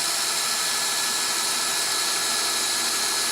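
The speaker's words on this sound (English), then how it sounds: "You definitely want to keep your drill level so that you have an even finish." A drill shaping a brass lightsaber switch cap runs as a steady, continuous high-pitched whir, loud and unbroken throughout, with no talking.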